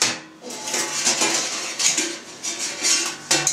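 A metal stirrer for making Havarti cheese is handled against kitchenware, giving close, bright clinks and scrapes in quick irregular bursts, with no talking.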